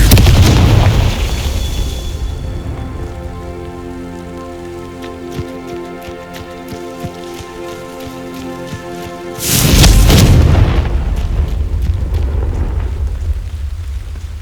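Two Confringo spell blasts in Hogwarts Legacy, a crackling explosion at the start and another loud burst about nine seconds later, separated by a quieter stretch of steady tonal hum with scattered sharp ticks and a lingering rumble after.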